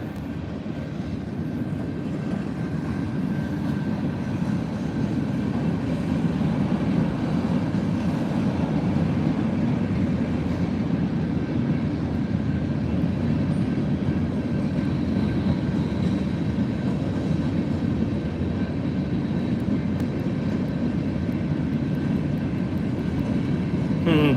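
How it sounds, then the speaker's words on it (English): A steady, heavy rumble of a long freight train rolling past late at night, continuous low clatter and drone holding at constant loudness throughout. "The train should be pretty long. It's late at night."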